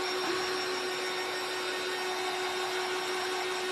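A handheld dryer blowing on a craft watering can sign, a steady loud whirring hum with a constant rushing airflow hiss, unbroken and close throughout with no speech.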